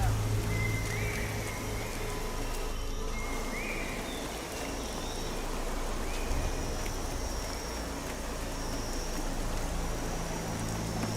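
Steady rain in the video game Gothic Remake, a constant hiss of falling drops with a few faint higher tones drifting over it and no voices.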